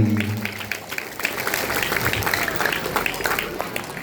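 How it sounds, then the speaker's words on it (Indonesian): An audience at a Friday religious lecture breaks into applause, a dense spread of clapping that carries on steadily after a brief low voice at the start. "Tepuk tangan untuk kita semua."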